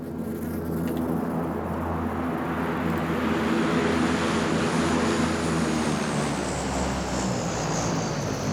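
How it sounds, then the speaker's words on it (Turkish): Propeller airplane engine in a PUBG match, a loud, continuous droning roar that swells as the plane passes overhead, with a faint insect-like whine and no talk. "Uçak niye geliyor abi?"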